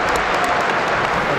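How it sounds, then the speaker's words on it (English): Stadium crowd applauds steadily at a Champions League football match between Newcastle United and Qarabağ, greeting a player's first touch; a dense, continuous wash of clapping and crowd noise with no clear break. "His first touch is applauded."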